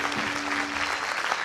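Audience applause at the Lexington Music Awards, clapping for a band: dense, steady clapping from a crowd that holds evenly for a second and a half, with a faint sustained tone beneath.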